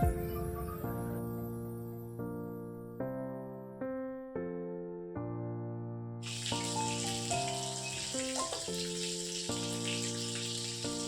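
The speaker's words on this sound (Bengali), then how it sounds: "মাছের মাথাটা দেখো ভাজা করছি" A fish head frying in a home kitchen pan gives a steady, bright sizzling hiss that starts partway through and keeps going, mixed with tuneful background music.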